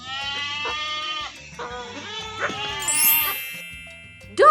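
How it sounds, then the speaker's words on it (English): A goat bleats in a few wavering, nasal calls over a quiet low background, close and fairly loud, with a brighter sharper cry near the end. "Goat gives us milk and meat."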